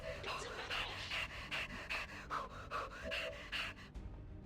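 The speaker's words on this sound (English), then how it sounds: "Okay, quit with the heavy breathing, please." Heavy rhythmic breathing from a character in a video game, about a dozen loud close panting gasps in steady succession before cutting off.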